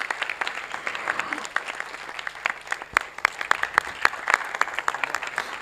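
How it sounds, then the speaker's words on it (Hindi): An audience at a stage play applauds a guest coming onto the stage, steady close applause with crisp individual claps that continues throughout, with no talk over it. "सर के लिए जोरदार तालियां."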